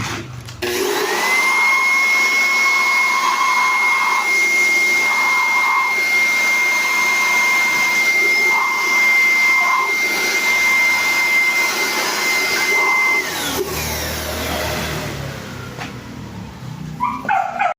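A loud blower drones continuously with a steady high whine while drying a shop flooded by a typhoon, then winds down; a dog barks and whimpers faintly in the background.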